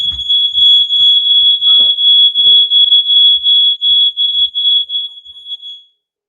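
A smoke alarm beeps loudly in a rapid, continuous series of shrill tones, with faint thumps and rustling underneath, then stops.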